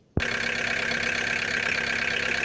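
Volkswagen T4 engine catching abruptly after a brief quiet moment, then running at a steady, loud, close idle with a rhythmic pulsing throb and no talk.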